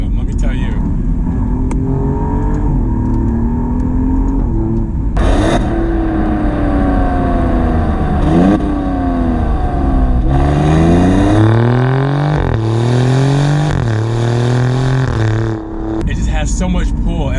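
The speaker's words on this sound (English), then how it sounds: "So much pull, and the noises, the exhaust is a rasp to it, but then the pops" Alfa Romeo Giulia Quadrifoglio accelerating hard with a raspy exhaust, revs climbing and dropping through several gear changes, with sharp pops between pulls and a person talking over the engine throughout.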